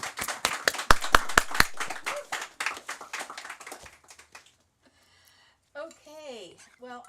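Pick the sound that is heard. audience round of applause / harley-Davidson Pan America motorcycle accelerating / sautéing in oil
audience round of applause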